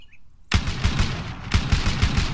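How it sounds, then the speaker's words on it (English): An M249 light machine gun with a grip pod bipod fires in a slow fire mode in Arma 3, starting abruptly after a short quiet pause and rattling off loud, evenly spaced shots with a booming, echoing tail. "Now, the real M249 doesn't have this slow fire, right?"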